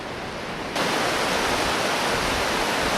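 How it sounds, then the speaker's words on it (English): Fast-flowing river rapids below a breakwater, a dense constant rushing roar that jumps louder after a fraction of a second and holds steady. "all the rapids, and all that fast flowing water in the river down there."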